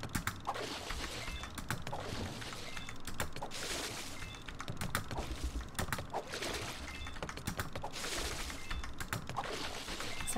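Rapid keyboard typing clatters continuously and up close during a gaming session, with dense irregular keystrokes in bursts and occasional heavier key presses.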